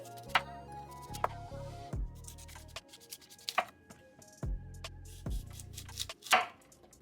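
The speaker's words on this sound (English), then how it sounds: "We're going to slice it into more manageable pieces." A knife slicing food into pieces on a board: several crisp cuts and taps spread over a few seconds, fairly quiet and close, over soft background music with no talking.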